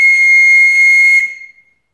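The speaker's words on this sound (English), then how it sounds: "So I actually made two whistles." A handmade wooden whistle gives a shrill, steady blast, loud and close, holding one bright pitch for over a second before trailing off into silence.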